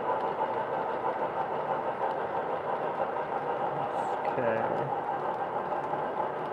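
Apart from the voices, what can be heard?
model train Big Boy locomotive running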